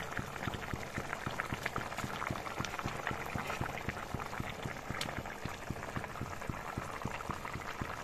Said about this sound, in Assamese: ইয়া দেখিছেনে কি ধুনীয়াকৈ উতলিব ধৰিছে